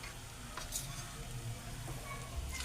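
Bottle gourd fritter batter frying in hot oil, a soft steady sizzle with faint crackles and a few light clinks, moderately quiet and without talk.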